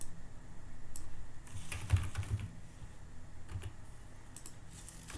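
Typing on a computer keyboard, close soft clicks in short irregular bursts over a low background hum, without talk.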